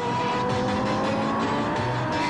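Turbocharged Audi quattro race car running in Trans Am competition during qualifying, its engine droning steadily and loudly with tonal whine and shifting pitch throughout, no voices.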